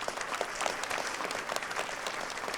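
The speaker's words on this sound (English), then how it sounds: "Let's give all of our sponsors a round of applause," Audience applause for exhibit sponsors at a conference event: steady, fairly faint crowd clapping from a modest room, continuous and even throughout with no voices.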